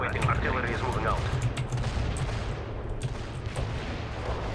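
Artillery strike in the strategy video game World in Conflict, a dense continuous rumble of blasts and gunfire with sharp cracks scattered throughout, loud and sustained, with faint voice-like sounds in the background.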